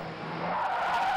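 Car tires skidding and squealing under reckless driving of a taxi, a sustained broadband screech lasting about a second, loud and close with no talk over it.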